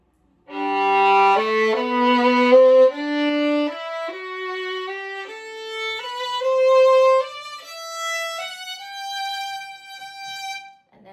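A solo violin plays a smooth run of slurred notes from Seitz Concerto No. 2, third movement, stepping down and then back up, each flowing into the next without breaks.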